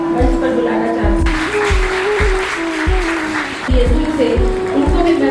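Audience applause at a Hindi Diwas celebration fills the hall from about a second in and stays steady, with a voice and rhythmic low thumps throughout.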